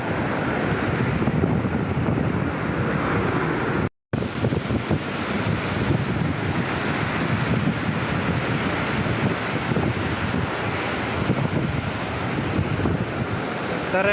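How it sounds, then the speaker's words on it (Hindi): Water rushes through the Panjnad headworks barrage in a loud, continuous roar with wind buffeting the microphone, broken only by a brief dropout. "कितनी स्पीड है पानी गुजर रहा है"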